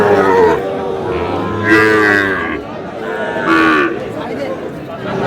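Sahiwal cattle low loudly at a livestock market in Aftabganj, Dinajpur, giving several long moos close by, with people talking in the background between the calls.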